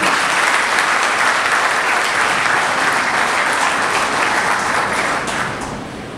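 Sustained applause from an assembled audience honoring the anniversary of Karvachar's 1993 liberation, dense and steady for about five seconds before tapering off at the end, with no talk.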